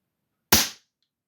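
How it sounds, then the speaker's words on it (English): A Walther CPM1 single-shot CO2 target air pistol in .177 fires once, giving a single sharp, close pop that decays quickly into silence. "So again, lift the lever, place the pellet in, and that seats the pellet the same every time."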